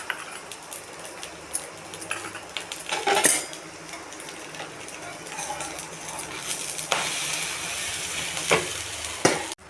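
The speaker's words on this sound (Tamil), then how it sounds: "எண்ணெய் ஊற்றிட்டு திருப்பி விட்டுக்கலாம்." A plain dosa frying in oil on a hot pan, with soft continuous sizzling broken by sharp metallic scrapes and taps as it is flipped.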